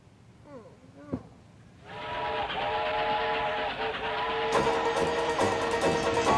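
Quiet chatter, then a sustained model train whistle blows loudly for several seconds, growing brighter toward the end.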